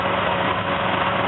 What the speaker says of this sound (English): as you can see, the motor's running really good